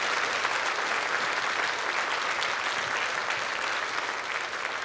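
A large church audience at a 130th-anniversary concert of Bach's St Matthew Passion applauds, a dense, even wash of many hands clapping that holds steady and loud from start to finish with no voices above it.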